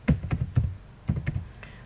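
Quick bursts of keystrokes on a computer keyboard, two short clusters of clicks separated by a brief pause, close and fairly crisp with no talking.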